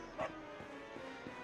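A dog barks in the video game Dragon Quest 11, a short faint bark followed by a few softer yips in the background.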